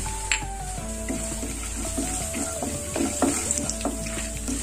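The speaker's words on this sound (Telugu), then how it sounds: "ఆయిల్ హీట్ ఎక్కిన తర్వాత ఇందులో ఇప్పుడు 1/2 టేబుల్ స్పూన్ ఆవాలు, 1 టేబుల్ స్పూన్ పచ్చనగపప్పు ఇప్పుడు ఇందులో యాడ్ చేసుకోవాలి" Mustard seeds and chana dal frying in hot oil in a pan, a steady sizzle with scattered crackling pops and faint stirring, fairly close with no talking.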